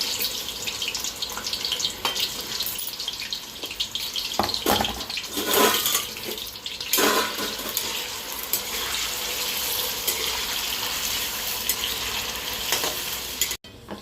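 Yam, sweet potato and potato pieces sizzle and bubble in hot oil, a dense continuous frying hiss with bursts as pieces are stirred or dropped in, close up and without talk.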